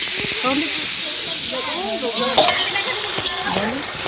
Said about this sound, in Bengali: এই দেখো মাংসটা আমি বসিয়ে দিলাম খাসির মাংস